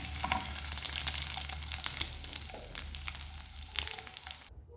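Eggs frying in a pan for an egg gravy curry produce a loud, continuous close sizzle with crackling pops and stirring scrapes throughout, then a sudden stop.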